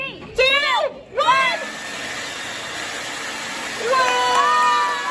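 A loud leaf blower blows steadily as it pushes a beach ball across water at a museum science show, a continuous airy roar that carries on under excited shouts and cheers from a child audience.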